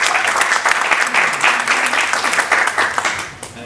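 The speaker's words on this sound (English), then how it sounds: "So huge round of applause for you as well." Audience applauding at an entrepreneurship panel event in Washington, DC, a dense, steady wash of many hands clapping that stays full throughout before easing off slightly near the end.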